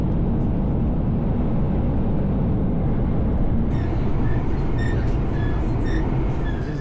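A train rumbles loudly and steadily through a station in Japan, with wheel squeal and high screeching tones coming in over the roar partway through.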